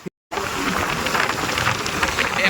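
A heavy cloudburst downpour in Lonand pours down as a dense, steady hiss of rain that starts abruptly after a brief silent gap and stays loud and even throughout.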